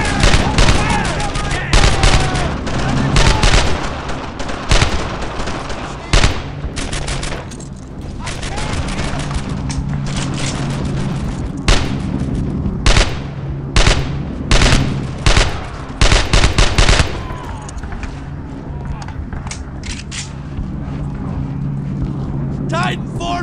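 Dense fusillade of rifle and machine-gun fire in the World War II shooter Brothers in Arms: Earned in Blood, loud bursts and rapid volleys cracking almost continuously under shouted voices.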